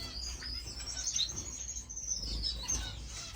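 Finches kept in an indoor bird room chirping and tweeting, a busy chorus of soft high calls, fairly faint and distant over a low background hum, with no speech.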